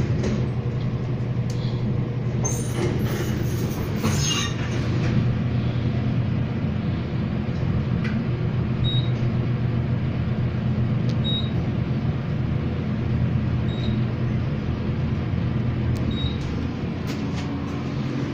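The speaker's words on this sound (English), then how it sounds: "It looks like an Otis elevator. Let's take one more ride." An Otis traction elevator riding in a parkade in Edmonton, a steady low rumbling hum of the moving car throughout, with faint periodic chimes and a few light clicks.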